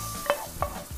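Garlic frying in hot oil for a restaurant-style tarka dal, a steady close sizzle broken by a few sharp stirring scrapes of the spoon in the pan.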